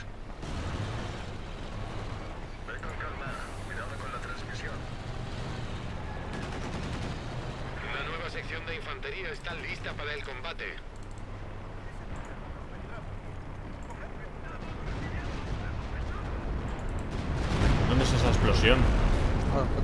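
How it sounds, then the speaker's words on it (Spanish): Rocket launches and battle gunfire in the Company of Heroes 2 strategy game, a continuous rumble of distant firing and bursts under ongoing talk, swelling louder toward the end. "Aquí arriba, que estoy lanzando cohetes yo"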